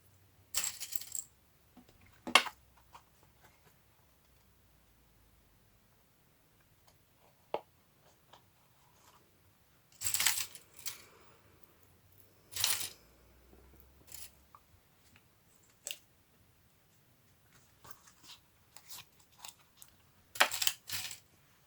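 Metal paper clips are grabbed and jostled, giving bright clinking rattles in short irregular clusters separated by near silence.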